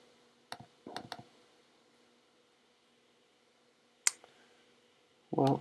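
Computer mouse clicks in a quiet room: a few light, sharp clicks, some in quick pairs, separated by long silences and closing with a brief soft clatter.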